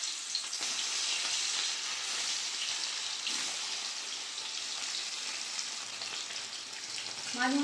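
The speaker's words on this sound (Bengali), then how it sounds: "মাছগুলো উল্টে পাল্টে ভালো করে ভেজে নেব।" Rohu fish pieces frying in mustard oil in a kadai, a close, steady crackling sizzle that holds evenly throughout with no voices.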